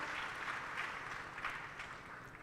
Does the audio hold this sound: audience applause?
yes